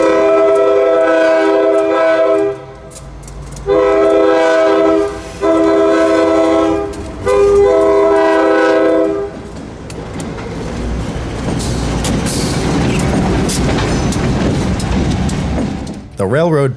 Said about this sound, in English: seeing standard cab GEs pulling this hard on local service